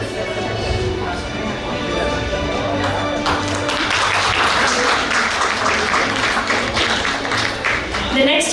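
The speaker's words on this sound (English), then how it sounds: "Join me in applauding Mr. C.L. Pardesi" Audience applause at an award ceremony in Faridabad, a steady wash of clapping that swells after a few seconds and continues loudly to the end, with faint talk underneath.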